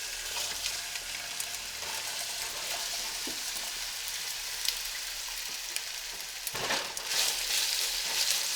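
Potatoes for breakfast burritos sizzle steadily in a hot pan, a dense continuous frying hiss with a brief louder surge near the end as pieces settle.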